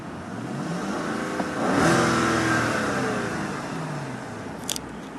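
A 2012 Hyundai Genesis 4.6L engine revs up to a peak and settles back into a steady idle, close by, with a brief click near the end.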